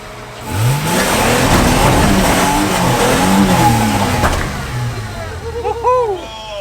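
A 4x4 engine revving hard on an off-road track while the vehicle pulls a wheelie, a loud, close, sustained roar that rises and falls, then eases off with voices at the end.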